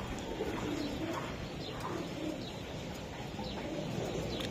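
Racing pigeons coo repeatedly in a loft, a steady overlapping murmur of soft calls with occasional chirps, close and continuous over background noise.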